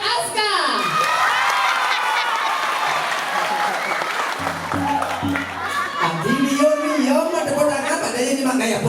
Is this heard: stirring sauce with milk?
no